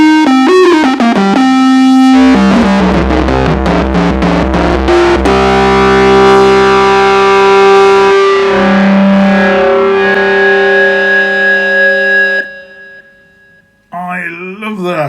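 A Roland Boutique JD-08 synthesizer plays a distorted guitar-style lead preset, a loud, sustained, buzzy melodic line with held notes and pitch changes that cuts off near the end before a brief final phrase.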